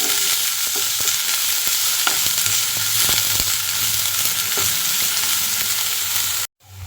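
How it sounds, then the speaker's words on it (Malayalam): Onion, ginger, garlic, green chilli and curry leaves sizzle steadily in a pan while being stirred for okra curry, with continuous frying hiss and a few soft spoon scrapes, close and loud, cutting off abruptly at the end. "ഇഞ്ചി വെളുത്തുള്ളി പച്ചമുളക് കറിവേപ്പില ഇത്രയും കൂടെ ചേർത്തൊന്ന് വഴറ്റിയെടുക്കാം നന്നായിട്ടൊന്ന് ഇളക്കി കൊടുക്കാം"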